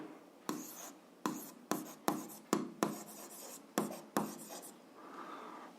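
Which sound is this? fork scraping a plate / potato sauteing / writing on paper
writing on paper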